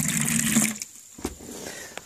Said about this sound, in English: Just have to crank open the spigot, and she comes running out.